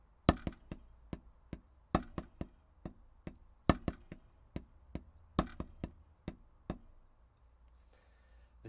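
Sharp snare drum strokes playing the single dragadiddle rudiment in a slow repeating pattern, each cycle opening with a louder accented drag, played alone and close, ending in a brief pause.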